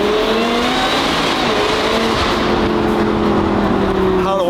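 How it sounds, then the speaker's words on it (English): A widebody Lamborghini Revuelto revs hard up close, its supercharger whine rising as steady high tones over the loud, continuous engine roar. "wanna hear supercharger whine?"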